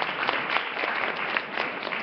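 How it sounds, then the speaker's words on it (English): Audience applause at a live community forum, steady scattered clapping from a moderate-sized crowd lasting a couple of seconds at modest level. "Please give him a round of applause."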